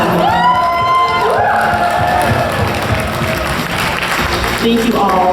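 Loud crowd applause and cheering with whoops at a convention closing ceremony, dense and continuous throughout, with strong tonal music or voices layered on top.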